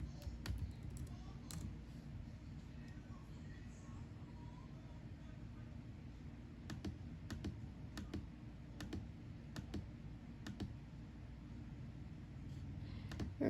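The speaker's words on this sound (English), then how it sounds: "We're going to type in football." Scattered, quiet clicks of a computer keyboard come in short bursts over a steady low background hum as someone types a search word.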